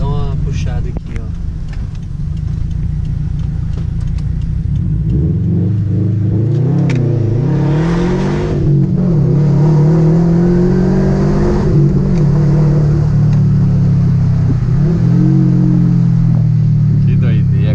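A 270 hp car accelerates and revs hard while driving through a residential condominium, its engine rumble rising and falling in repeated pulls, close and loud throughout.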